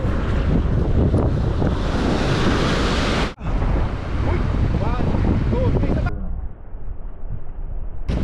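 Heavy wind buffets the microphone as big ocean waves crash against the rocks at a rock fishing spot, loud and close, with a sudden brief dropout midway and voices shouting over the surge.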